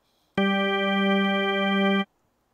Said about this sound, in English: I have the Drawbar organ right here